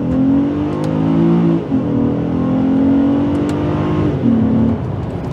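A Honda Accord V6 with an automatic transmission revs steadily, its engine note dipping briefly and climbing again during gear changes, loud and close with no talk.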